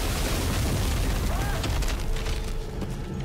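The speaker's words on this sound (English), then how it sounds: "Wow, everything is exploding." Explosions in the sci-fi horror shooter Dead Space 3, heavy booming blasts and rumbling debris layered over a loud, dense battle din, with a voice speaking partway through.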